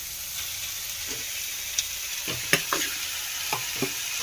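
Cooked, drained leafy greens are tipped into a frying pan with tomato, a soft steady sizzle under a few sharp scrapes and stirring knocks of a spoon against the pan, close and unaccompanied by speech.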